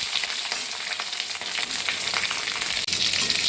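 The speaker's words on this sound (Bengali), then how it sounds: "পটলগুলো আমি ভেজে নিই ভালো করে।" Continuous close sizzle of pointed gourds frying in oil, dense and even, with a brief dip near the end.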